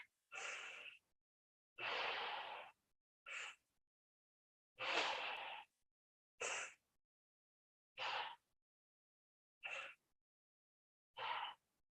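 Slow, deliberate breaths drawn in and pushed out during a yoga breathing exercise, eight or so distinct airy bursts separated by silent pauses, close and clear with no talking.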